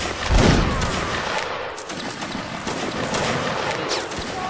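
Musket volleys crack out in a video game line-infantry battle, a dense fusillade of overlapping shots, loud and close, rolling on continuously with scattered individual reports.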